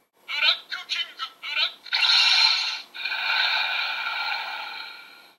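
A Ginga Spark toy plays the recorded monster cry of Black King: several short rasping grunts, then a long, harsh roar that tapers off, close and electronic with no talking.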